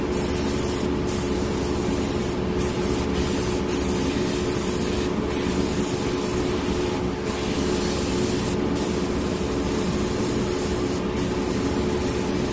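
Steady airbrush hiss of paint spraying continuously onto paper from about a centimeter away through a 0.2 mm tip, close and even, with a few brief breaks where the airflow stops and restarts.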